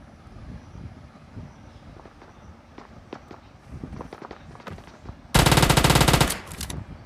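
Gunfire in a rush-style shooter game: quiet footsteps and movement first, then a loud, close burst of rapid automatic fire lasting about a second near the end.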